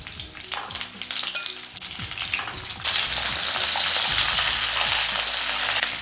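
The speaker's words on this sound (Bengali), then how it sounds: "এরপরে ফুলকপিগুলো ভেজে নেব।" Cauliflower florets fry in hot oil for a cauliflower korma, giving a loud, steady sizzle that jumps to a dense, continuous hiss partway through, with occasional stirring clatter.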